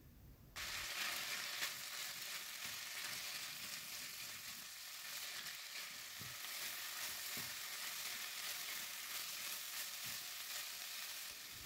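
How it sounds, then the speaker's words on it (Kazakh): Meat and finely chopped onion fry in a pan with a steady, even sizzle that runs throughout, broken only by a few soft stirring clicks. No voices are heard. "ұсақтап туралған пиязымызды салып, оны да сәл қуырып алатын боламыз."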